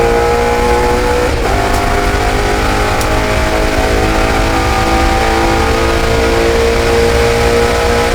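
Ford Mustang race cars at full speed on the Le Mans circuit during the Mustang Challenge, with loud sustained engine roar and droning harmonics that stay steady and close throughout.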